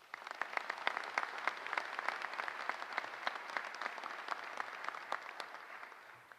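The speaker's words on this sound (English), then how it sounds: "Let's give them a round of applause." Crowd at the Delta Council 2021 annual meeting applauding, a steady wash of many hands clapping at a distance, fairly quiet and even throughout.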